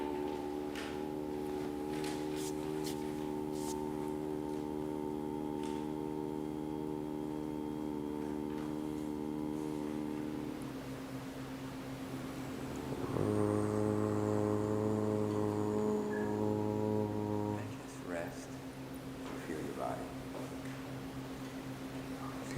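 A low, steady droning hum sounds alone, then swells louder and fuller for a few seconds before easing back, like a voice imitating a foghorn.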